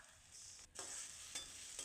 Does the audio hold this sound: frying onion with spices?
yes